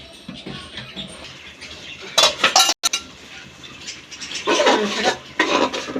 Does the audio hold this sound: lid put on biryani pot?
yes